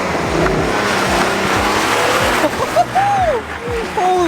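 Police car drifting with an engine roaring loudly and steady, then tires squealing in several sharp, rising chirps and screeches near the end, up close.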